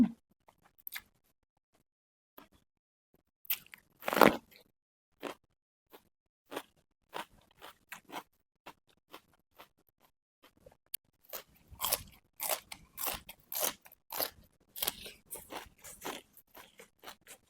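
Crunchy chewing of Thai papaya salad with rice noodles and chicken feet: sparse single crunches early, then a dense run of close, loud bites and chews in the second half, with no talking.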